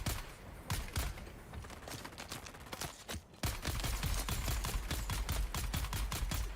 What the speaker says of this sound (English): This guy has like an SMG or something.